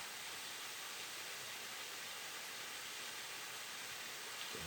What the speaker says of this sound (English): just a lovely little waterfall shot